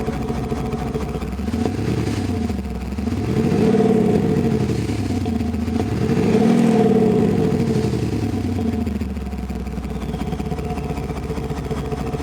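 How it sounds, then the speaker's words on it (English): Land Rover Defender 110 fitted with a QuickSilver V8 exhaust sound generator, revved twice from idle in rising and falling sweeps, loud and close, settling back to a steady synthetic V8 burble. "Give it a little rev."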